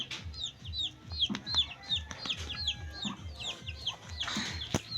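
Chickens cluck repeatedly nearby, short throaty calls overlapping in a busy flock, with a few sharper squawks mixed in.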